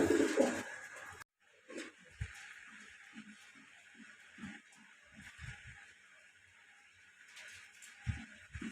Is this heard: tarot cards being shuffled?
no